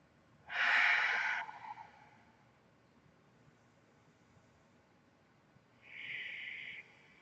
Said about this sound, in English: We'll take a couple deep breaths here.